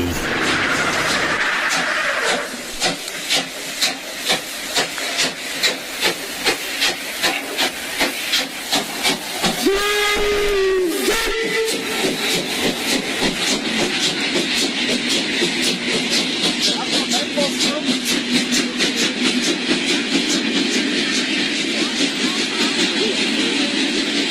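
A steam train chuffs along its rails in a steady, rapid rhythm and a whistle sounds briefly near the middle, while the hiss and clatter carry on throughout, close and loud.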